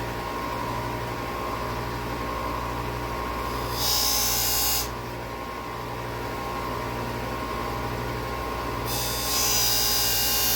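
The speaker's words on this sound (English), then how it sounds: "So again, over to the sander." A power sander works on a model airplane wing part for a Flyin King build: two short, loud abrasive bursts of grinding whine rise over a steady background motor hum.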